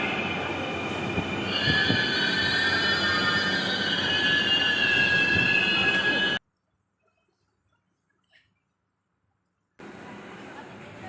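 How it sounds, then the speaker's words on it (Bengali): A metro rail train arrives at a station, with loud rolling rumble and high squealing wheels for about six seconds, then a sudden silence before the rumble resumes. "এরই মধ্যে কিন্তু মেট্রো রেলটা চলে এসেছে"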